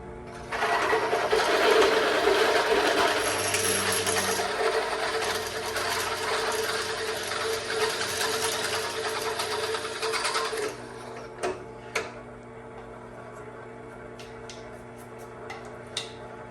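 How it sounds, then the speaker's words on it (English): A power drill with a drill bit whirs steadily at close range for about ten seconds, drilling holes for a brake upgrade, then stops, leaving faint clicks and taps. "I'm trying to just let the weight of my hand hold down on it and let the drill bit do the work."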